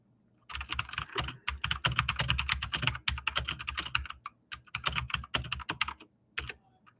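Rapid keystrokes on a computer keyboard, clattering in quick uneven bursts with short pauses, close and fairly loud, no voices.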